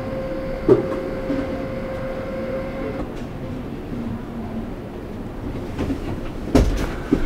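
An electric lift bed rises inside a Rapido M96 fully integrated Mercedes-Benz Sprinter motorhome: a steady motor hum runs close by for about three seconds, then cuts out, with a few clunks and knocks later.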